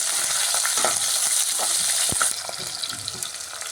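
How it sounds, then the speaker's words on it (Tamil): Sliced onion sautéing in oil in a pan alongside coriander, curry leaves and mint for a chapathi side dish, a steady close sizzle with scraping stirs and a few sharp clicks, easing slightly toward the end. "அடுத்தது வெங்காயம், இதையும் ஒரு வதக்கிடலாம்."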